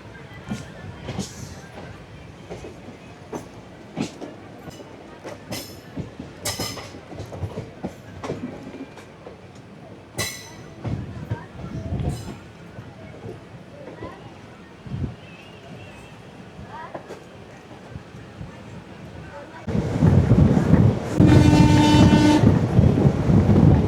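Balurghat Express 13431 running with steady rattling wheels and clicks, then a loud, sustained train horn blasts near the end; a voice speaks briefly over the rail noise.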